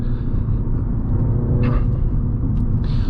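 A 2024 MINI Clubman John Cooper Works, a small hot wagon, drives along with a steady low engine and road rumble throughout, continuous and close, with no talk over it.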